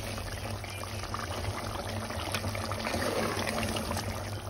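Bottle gourd and meat curry simmering in a covered pot on a stove, a soft steady bubbling and sizzling hiss that continues evenly and close up, with no talk over it.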